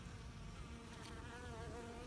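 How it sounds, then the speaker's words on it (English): Honey bees foraging at water kept with fish in it buzz softly and continuously nearby, several wings overlapping into a faint, wavering hum. "Bees love this right here. Look how many bees."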